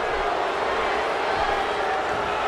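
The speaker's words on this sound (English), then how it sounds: "Would you listen to this crowd show their appreciation for these amazing competitors?" A wrestling arena crowd in the WWE '13 video game, during Sheamus vs Mark Henry at Extreme Rules 2013, roars in a sustained broad wash of cheering, steady and loud without pauses.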